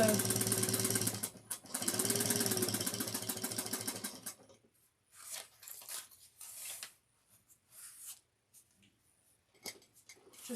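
Sewing machine back stitching on and off a pocket of a slouch shoulder bag, running in two loud close bursts of rapid stitching over the first four seconds, then giving way to quiet handling clicks and rustles.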